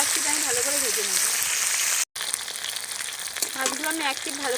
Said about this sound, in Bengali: মাছগুলোকে এক পিঠ আমি ভালো করে ভেজে নেব।